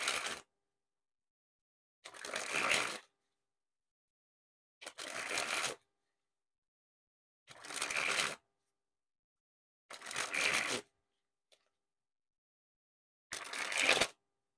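Cactus Standard playing cards are sprung from hand to hand in six separate bursts of rapid fluttering flicks, each about a second long with silent pauses between, close and clear with no talk.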